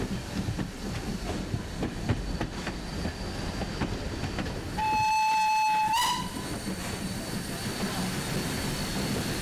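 A Cévennes steam train crosses a bridge at full speed, a loud continuous rail rumble with clattering wheels, broken midway by a shrill steam whistle blast lasting about a second before the rolling noise carries on.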